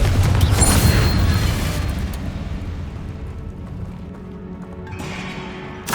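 Confringo fire blast spell in the Hogwarts Legacy video game, a loud roaring burst that rumbles and crackles, then tails off into a long fading boom before a second swell near the end.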